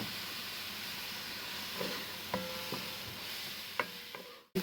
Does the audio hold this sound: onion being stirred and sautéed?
yes